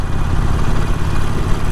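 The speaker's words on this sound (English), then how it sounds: "I'm not even sure so far how the exhaust node comes through on video" A Harley-Davidson 48 motorcycle idles on its quiet stock exhaust, giving a steady, close, low rumble that runs throughout with no talking.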